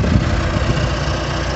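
A 115 HP American-made John Deere tractor engine runs at a steady idle, a continuous low rumble with faint chugging pulses, close by and moderately loud, with no talk.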